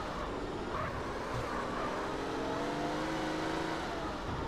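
A car drives steadily in GTA San Andreas, its engine holding a low, even drone with a faint hum that stays fairly quiet and continuous throughout, with no voices.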